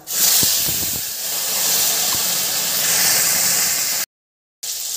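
Ginger, cumin and green chilli drop into hot oil for a kochu shak dish, setting off a loud, continuous hiss of sizzling with a few soft knocks early on, broken briefly by a gap of silence near the end.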